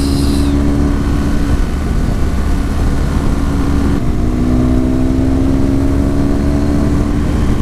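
A fully loaded BMW R1200GS motorcycle carrying two riders cruises at about 60 on the highway, its engine droning loud and steady under constant wind roar, with the pitch shifting slightly partway through.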